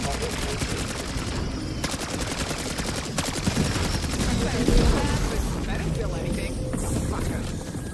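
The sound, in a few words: gunfire in a video game (Call of Duty Black Ops)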